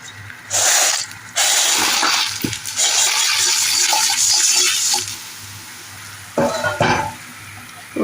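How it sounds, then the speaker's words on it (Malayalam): Dry instant Maggi noodles go into a pot of salted water already at a boil while making masala Maggi, giving bursts of splashing and sizzling bubbling in a busy kitchen with no talk. "വെള്ളം തിളച്ചിട്ടുണ്ട്, നമുക്ക് മാഗി ഇട്ട് കൊടുക്കാം."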